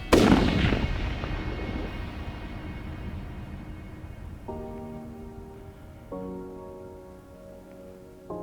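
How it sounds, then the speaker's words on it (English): A hunting rifle is fired once at a nine-point deer during a November hunt in Nebraska, a sharp loud blast that rings out and decays over several seconds, with faint outdoor background after. "Do you think that was a heart shot?"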